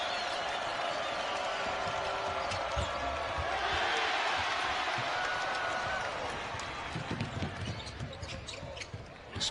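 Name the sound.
basketball arena crowd cheering and applauding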